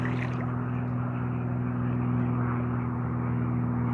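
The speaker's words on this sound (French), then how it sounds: "Oh, un autre hydravion." Old seaplane flying over a river, a steady propeller-engine drone with a low tonal hum, sustained and fairly near for the whole stretch.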